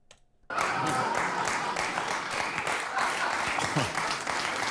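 Audience applause erupts abruptly after a brief quiet moment, then continues as a loud, sustained, dense clapping with some crowd noise mixed in.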